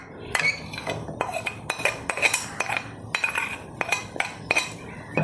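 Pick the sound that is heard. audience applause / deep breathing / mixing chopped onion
mixing chopped onion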